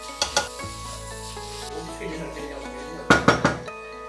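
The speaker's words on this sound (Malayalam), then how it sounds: "ചിക്കൻ പൊരിച്ച എണ്ണയിൽ തന്നെ ഉള്ളിയും മസാലയും വഴറ്റിയെടുക്കുന്നുണ്ട്." Onion and masala sautéing in leftover chicken-frying oil in a home kitchen: a low steady sizzle with sharp clatters of a utensil against the pan at the start and again near the end.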